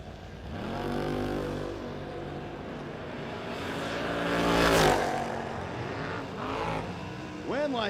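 Drag racing cars, including a third-gen Camaro, roar down the track at a no-box shootout, engine noise swelling and passing at a distance with a commentator talking over the sound.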